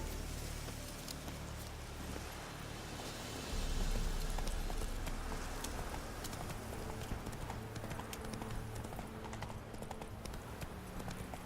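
Roach, the horse in The Witcher 3, trots with a steady clip-clop of hooves. Rain patters over the hooves, and a brief louder thump comes near the middle.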